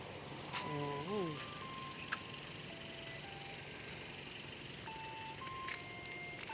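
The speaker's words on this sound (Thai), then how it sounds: "รถไอคิมก็มาแล้วนะครับ" An ice cream truck's electronic melody plays near an office building in Thailand, its bright looping tune rising and falling over steady outdoor background noise while people talk nearby.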